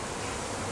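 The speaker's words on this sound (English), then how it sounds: "See how the bees gather?" A Florida backyard beehive gives off a dense, steady buzz of many bees, loud and close, with no talk over it.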